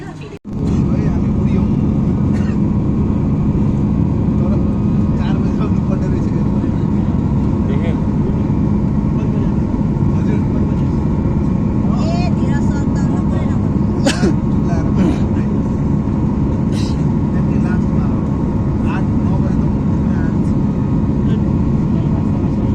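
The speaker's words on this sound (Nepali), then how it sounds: "प्लेन चल्नु स्टार्ट भयो गाइजहरू" An airliner accelerating down the runway and lifting off, heard from inside the cabin as a loud, steady engine roar and rumble.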